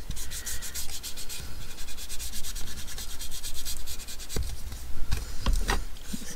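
An ink pad is rubbed around the edges of paper to distress them, giving a close, continuous dry scrubbing with quick back-and-forth strokes, followed near the end by a few light taps and handling noises, with no talking.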